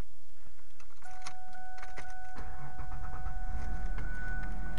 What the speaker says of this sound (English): can you hear the car running?